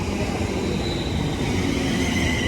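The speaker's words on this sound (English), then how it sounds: "here comes the 1201 London Northwestern Railway service to London Euston" A London Northwestern Railway Class 350 passenger train arriving at Bletchley station, with a continuous loud rumble of wheels on rail and a faint high squeal running throughout, no voices.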